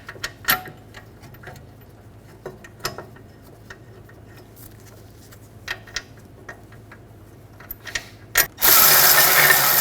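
Bolts being threaded into a rear brake caliper bracket on a 2009-2010 BMW 535i xDrive: sparse metallic clicks and ratchet-like taps close by, then a sudden loud steady noise burst at the end.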